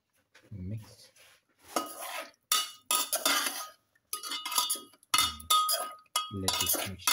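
A utensil stirs a pepper, garlic and swordfish stew mixture in a pot, giving repeated scraping and clinking strokes in close, uneven bursts with short pauses between.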